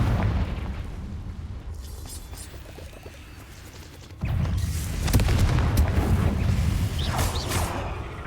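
In Hogwarts Legacy, a Confringo fire spell explodes with a sudden mid-loud burst and crackling rumble after quieter combat noise, the blasts overlapping busy battle sounds.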